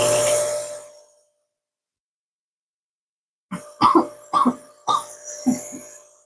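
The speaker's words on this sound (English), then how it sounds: "Coughing is normal if you have to cough" Talk trails off into silence, then a person coughs several times in quick, close bursts.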